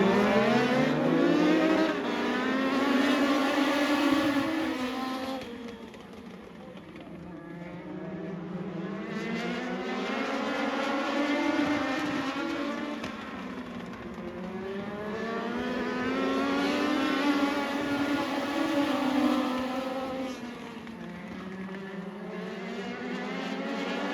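Race cars lap a track, their engines swelling and fading in repeated waves as they pass, loud and continuous, with no talk over the roar.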